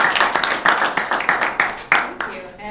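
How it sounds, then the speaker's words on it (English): Audience applause at a live debate event, a dense round of clapping close and fairly loud that swells and then tapers off within a few seconds. "please join me in giving Fiona a round of applause"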